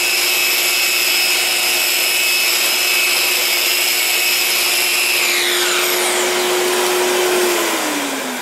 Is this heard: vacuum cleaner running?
yes